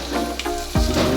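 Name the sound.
garlic sizzling in pan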